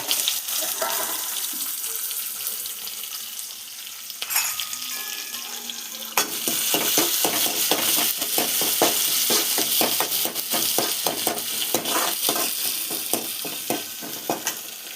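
Small onions frying in a pan, a steady loud sizzle broken up by scraping stirs and clatter, busier after a few seconds, with no talking.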